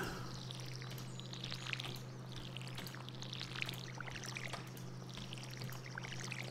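Watering crops in the game Stardew Valley gives repeated soft pouring splashes, each a short watery burst, set over a steady low hum with chirpy game ambience.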